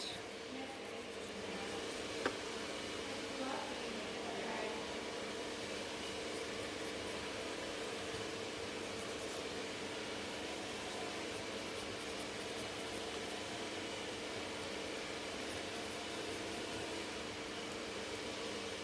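A steady, airy whooshing drone runs without a break, like a blower close by, constant and unchanging.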